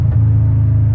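A car engine drones at a low, steady pitch as the driver downshifts from fourth to third gear, a loud, close rumble lasting about a second.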